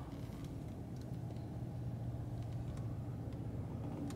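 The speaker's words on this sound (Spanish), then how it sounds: "Viene un carro atrás." A car approaches from behind on a highway near Ensenada, a low steady rumble of engine and tires that swells gradually, with no voices over it.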